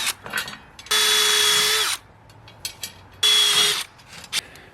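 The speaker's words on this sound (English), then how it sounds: "I'll drill some holes." Two loud bursts from a power drill whirring at high speed while drilling holes in a wooden table top, each about a second long, with clattering workshop noises between them.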